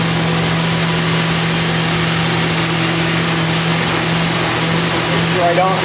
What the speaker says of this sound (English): Stopping the sander every time I come off the wood.